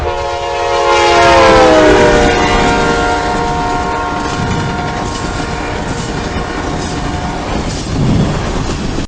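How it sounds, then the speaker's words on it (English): A train passes close by, its horn sounding loudly, the pitch sliding down as it goes past, then wheels rumbling and clattering on. "as the train passes, listen to the change in the pitch or the change in the frequency"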